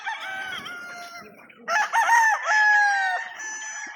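A rooster crows twice, the first call thinner, the second louder and drawn out, with a few fainter clucks and calls of other fowl around it.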